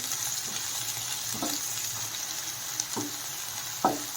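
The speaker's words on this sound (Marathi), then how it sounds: "थोडासा कांदा नरम होईपर्यंत त्याला असं भाजून घ्यायचं आहे" Chopped onion frying in a pan for a jowar roti upma, a steady even sizzle with a few short spatula scrapes and taps, moderately quiet and uninterrupted.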